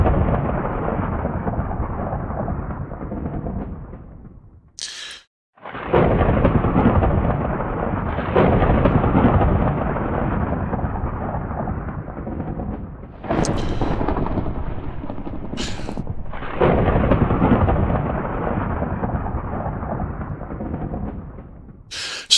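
A Minecraft Venus thunderstorm rumbles heavily and continuously, deep roaring thunder that drops out briefly a few times before surging back, with sharp cracking bursts between.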